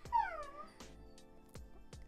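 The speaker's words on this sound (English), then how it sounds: "I'm sorry if you can hear my dog." A dog gives a faint, high, drawn-out whimper that slides downward, followed by a few soft clicks and shuffles in a quiet indoor room.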